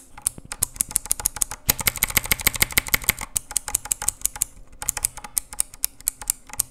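Blue-switch mechanical keys on a Rampage KB-R77 mini gaming keyboard fitted with silicone dampeners clatter in quick, close bursts of typing, with a dense run in the middle and short pauses between volleys; no voice.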